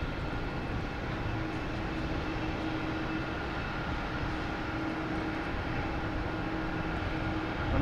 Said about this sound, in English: we have American Airlines taking off to Columbus in E175